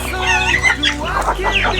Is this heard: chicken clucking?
yes